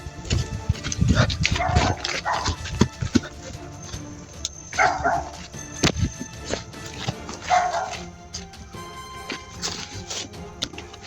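Stray dogs bark in scattered bursts, a few close yaps rising over a steady background hum, with short pauses between outbursts.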